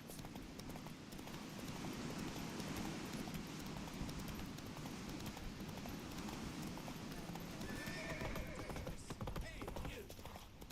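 Geralt's horse Roach gallops in the fantasy video game The Witcher 3, a dense, continuous drumming of hooves under rushing wind, steady and close throughout, with a faint voice surfacing briefly.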